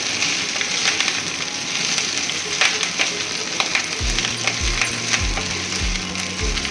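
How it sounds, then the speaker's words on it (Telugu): Drumstick leaves dry-frying in a pan over a low flame, a continuous crackly hiss dotted with ticks and light clicks, with rhythmic low thumps in the final seconds. "బాగా వేగాలండి."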